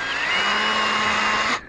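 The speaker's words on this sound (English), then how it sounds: "I'm going to drill some very small holes because I want a good bite with these screws" A worn power drill bores small pilot holes into plastic inside a truck, a loud steady whine held for about a second and a half before it cuts off, with no talking over it.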